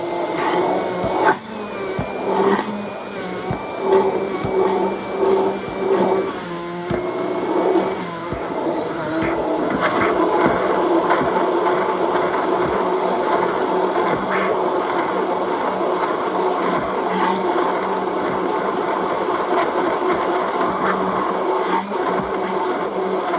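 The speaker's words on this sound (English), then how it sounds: "Let's get pureeing." A blender pureeing vegan cheese sauce for mac and cheese, first in short uneven bursts of whirring and then running as a steady loud motor whine to the end, with no talking.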